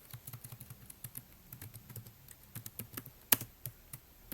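Fingers tap a computer keyboard in quick, uneven bursts of light clicks, close and quiet, with one sharper keystroke near the end and no talking.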